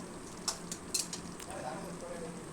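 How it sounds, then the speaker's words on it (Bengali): A utensil stirs egg tarka in a pan, giving a few light scraping clinks over a soft steady simmer and sizzle close by. "5 মিনিট পরে একটু নেড়ে দিচ্ছি।"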